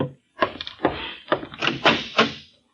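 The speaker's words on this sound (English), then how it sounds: "There's someone at my door." Knocking at a door in an old-time radio detective drama, a series of firm, distinct raps in two short groups, close and clear with no talk over them.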